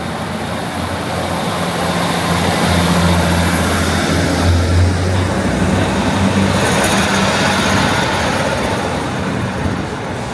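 A train departing Ravenglass station rumbles loud and close with a steady heavy roar and low engine drone, occasional tonal whines rising over the broadband noise throughout.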